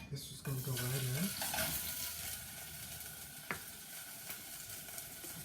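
Green onions and tomatillo fry in a pan with a steady, close sizzle, opening with a short low tonal hum and a few light clicks from stirring.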